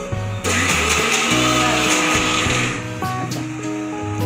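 A mixer grinder whirs as it grinds coconut together with masala paste, a loud steady motor drone that shifts in pitch as the load changes, then eases off near the end.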